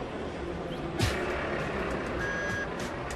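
A truck's reversing alarm beeps in a steady series of high tones against a background of traffic and crowd noise near a ballpark.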